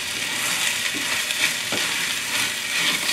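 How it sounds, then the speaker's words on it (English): Short grain rice and sake are given a quick stir in a pot, a soft continuous sizzle with light scraping strokes and faint clinks, no voices. "Give a quick stir."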